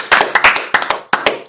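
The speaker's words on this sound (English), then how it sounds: "Round of applause." A quick round of hand clapping on a podcast set, a few people clapping in uneven bursts, close and crisp, with short pauses between spurts and no talking over it.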